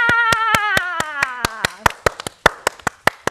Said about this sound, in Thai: ปรบมือค่ะ